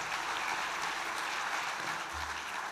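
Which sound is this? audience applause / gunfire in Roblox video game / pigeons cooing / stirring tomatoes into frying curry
audience applause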